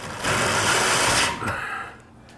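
A power driver whirs as screws go into carport framing during a screened-in porch build: one short, loud, high-pitched burst of about a second, then the motor winds down and stops, with no talk.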